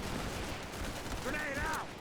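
Gunfire from a World War II combat video game set in the Pacific theater rattles continuously in dense bursts, with a voice speaking briefly partway through.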